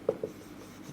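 A pen or marker writes out a cubic polynomial definition during a maths lesson, making two brief scratchy strokes close by with quiet room noise between them.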